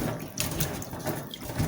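Picked beans rinsed under running water to clear away seed coats and dirt, a continuous close splashing and sloshing for a couple of seconds with a few louder swirls, no voices.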